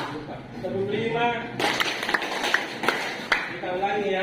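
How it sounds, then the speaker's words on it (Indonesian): Several sharp hand claps, roughly evenly spaced, come in a short burst during a classroom concentration clapping exercise, with a voice speaking before and after them. "Ini biasa saya katakan tepuk konsentrasi di dalam kelas"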